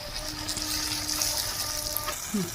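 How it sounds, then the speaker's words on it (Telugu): Water pours steadily into a pan of eggplant curry with a soft gushing rush, close up, ending in a brief clatter. "ఇప్పుడు దీంట్లో కొన్ని వాటర్ పోసుకోవాలి"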